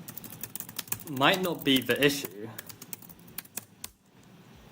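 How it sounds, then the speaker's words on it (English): Rapid clicking of a computer keyboard runs throughout, with someone talking over the keys partway through during a chess training session. "My keyboard is having a stroke."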